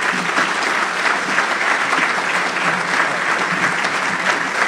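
Dense, loud applause from a banquet crowd at a Labour Day event, a continuous even wash of clapping with no break.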